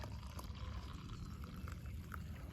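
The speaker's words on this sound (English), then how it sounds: "I'm gonna add a little bit of this hot water to that." Hot water is poured onto Colombian freeze-dried coffee from a Norwegian Army Arctic ration, a quiet, steady, close trickle that continues without a break.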